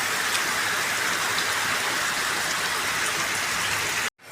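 Steady rain hisses evenly, loud and close, then cuts off abruptly near the end.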